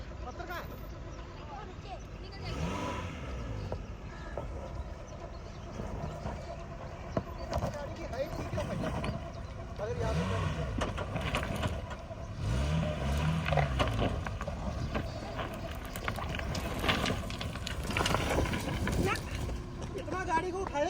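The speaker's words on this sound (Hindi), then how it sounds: "तो चलिए अभी हम डालते हैं इस पर गाड़ी" A Maruti Gypsy with a lifted body crawls over a rocky track, its engine grinding and rumbling at low speed as stones scrape and knock under the tyres, while people talk over it throughout.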